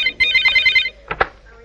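A telephone rings just after a number is dialed, with a short electronic warbling burst followed by brief clicks, close and loud with no one talking.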